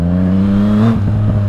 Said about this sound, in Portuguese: Dá uns pipocos no escape